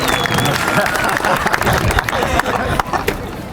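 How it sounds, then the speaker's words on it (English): A crowd applauds at a high school graduation ceremony, dense sustained clapping mixed with cheering and hubbub, loud and close throughout, with voices audible among the noise. "please give a round of applause to my aunt and the best secretary, Mrs. Eman."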